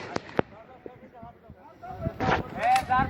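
Rifle gunshots at outdoor firing practice, a few sharp separate cracks near the start, then louder rapid bursts of shots toward the end, with people talking throughout.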